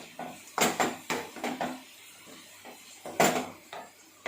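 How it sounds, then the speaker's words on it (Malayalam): Metal lid set back onto a pot of simmering fish curry after stirring, giving a few close clanks and knocks in quick succession with a louder clatter near the end. "എന്നിട്ടൊന്നുകൂടെ മൂടി വെക്കാം."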